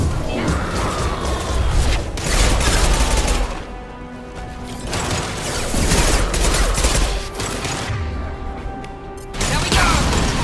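Impact shot gunfire in the video game Mass Effect 2, loud bursts of rapid shots and crashing impacts in several clusters separated by brief quieter gaps, with voices mixed in.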